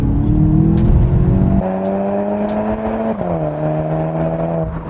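A Volkswagen Golf 7 GTI Performance Phase 2 in sport mode pulls hard from inside the cabin, its engine note climbing steadily through gears with brief drops at each shift, loud and continuous.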